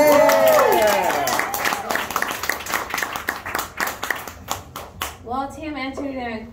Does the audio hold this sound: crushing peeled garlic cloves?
no